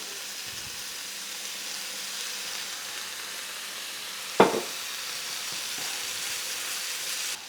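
Rice stir-frying with soy sauce in a pan produces a steady hissing sizzle, broken midway by one sharp clatter as something hits the pan, then the frying hiss carries on evenly.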